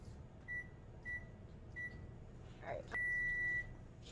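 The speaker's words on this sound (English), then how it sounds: "I'm going to put it in the microwave." A microwave oven heats a microwavable bowl for 30 seconds, giving a low steady hum broken by several short beeps and a longer closing tone, with a faint clunk near the end.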